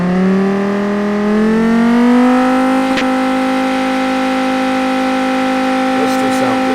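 Dodge Viper V10 engine from the Automation car-building game, revving up and holding at a steady high pitch without climbing further, a smooth buzzing tone sustained throughout, with faint talk near the end.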